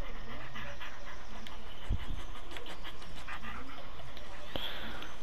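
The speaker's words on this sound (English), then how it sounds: "Now what are you barking at?" A dog companion in the horror video game Blair Witch pants steadily in the woods, with a couple of sharp barks or yips breaking through, while someone talks over it.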